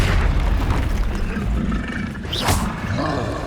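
A Confringo fire spell blasting in Hogwarts Legacy, a booming, roaring burst of game combat with a sharp whoosh midway, over rumbling background effects, a player shouting at times.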